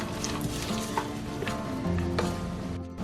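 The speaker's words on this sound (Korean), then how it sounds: "이제 부글부글 끓어오르면 불을 끄고 멸치와 견과류를 넣고 잘 섞어주세요" Anchovies and nuts being stirred into a simmering garlic sauce in a pan for Korean stir-fried anchovies, with a steady close sizzle and soft scraping stir throughout, no talk.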